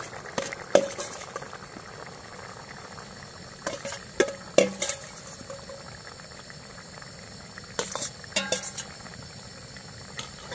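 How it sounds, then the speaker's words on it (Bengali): A spiced water mixture boils in a pot for Bengali chana dal, giving a steady low bubbling with occasional clinks of a utensil against the pot, no voices. "আমার জল দিয়েছিলাম, তারপর মশলাটা এই যে ফুটছে"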